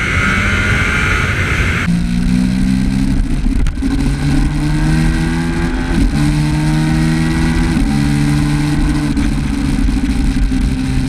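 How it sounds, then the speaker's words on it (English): A Yamaha XSR900GP motorcycle with a full composite exhaust drones loudly as it rides along the road, the pitch stepping up and down through gear changes amid steady wind rush. "that was a ride on my bike"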